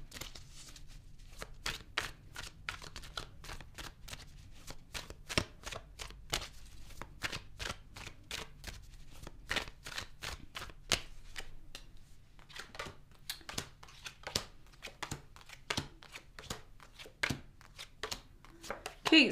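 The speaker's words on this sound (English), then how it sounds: "I'm going to clarify the cards and pull some advice." Tarot cards shuffled steadily up close, a long run of quick riffling snaps and flicks in a regular rhythm, fairly loud over a faint background with no clear talk.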